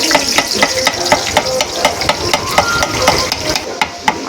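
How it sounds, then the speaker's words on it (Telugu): Thin gram flour batter, four kilograms mixed loose, drops into hot oil as boondi with a dense, loud sizzle and a steady run of sharp rhythmic taps throughout. "ఆయిల్లో పిండిని వేస్తున్నారు. బూందీలా తయారవుతుంది."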